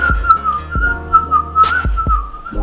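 A man whistles a wavering, tuneful line to imitate someone strolling around his pool with a bottle of Roundup, steady and close with light background beats.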